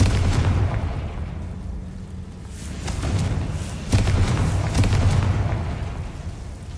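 Booming magical blasts from the Confringo fire spell in a Harry Potter video game, several heavy bursts over a rumbling low backdrop, with sharper hits near four and five seconds.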